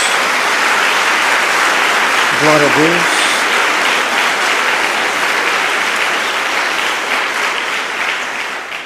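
A church congregation applauds in a sustained, dense wash of clapping that slowly fades toward the end, while a man briefly exclaims a short phrase over it.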